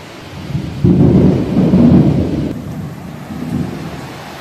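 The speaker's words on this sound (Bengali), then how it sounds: "কিন্তু দেখো এরকম একটা ঝড় শুরু হয়।" A thunderstorm with rain breaks overhead. Deep, loud rolls of thunder rumble for several seconds and ease off, then swell briefly again over a steady hiss of rain.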